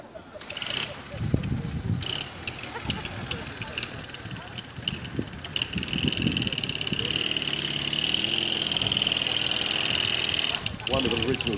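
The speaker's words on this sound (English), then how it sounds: "One of the original German BMW sidecar combination." An original German BMW sidecar motorcycle combination at a wartime re-enactment event runs its engine with a steady, mid-pitched idle throughout, under near-constant crowd chatter and commentary.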